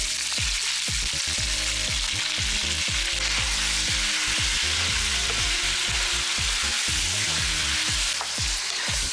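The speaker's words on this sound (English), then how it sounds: "Stir fry the meat for 5 to 6 minutes." Boneless mutton stir-frying with onion and ginger garlic paste, a loud, dense sizzle close up, punctuated by frequent rapid scraping stir strokes throughout, no voices.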